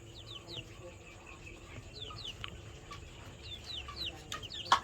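Chicks and hens in a coop: repeated soft, high peeping from the chicks with occasional low clucks, quiet and close over a faint background rumble.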